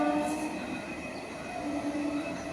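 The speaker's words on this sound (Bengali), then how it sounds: "একটা ট্রেন চলে এলো, আরেকটা ট্রেন" A fairly empty local passenger train bound for Kolkata pulls into a station, giving a moderately faint, continuous rolling rumble with a steady metallic hum and light wheel squeal, and no talking.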